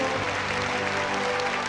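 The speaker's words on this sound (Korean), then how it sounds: "전체 참가자들은 열광적인 박수로 환영했습니다" Steady, dense applause from a large crowd at a state banquet in Pyongyang, loud and continuous throughout with no pauses or voices standing out.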